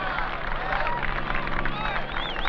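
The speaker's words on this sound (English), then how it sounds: "And the crowd loves it." A crowd at the 1975 World Frisbee Championships in the Rose Bowl stadium sends up a dense, steady roar of cheering and clapping throughout, with a voice talking over it.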